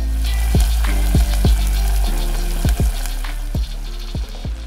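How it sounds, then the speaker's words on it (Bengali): Potato chips are dropped into a hot pan and fry with a loud, dense sizzle, punctuated by a series of sharp clunks or knocks at irregular intervals over a deep steady rumble, with no speech. "করে আমি দেখলাম আপনার প্যানটা গরম হয়ে গেছে, আমি চিপসটা দিয়ে দিব।"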